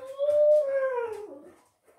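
Dogs begging for food give a single drawn-out whimpering howl that rises, holds, then slides downward and fades after about a second and a half, loud and close with no talk.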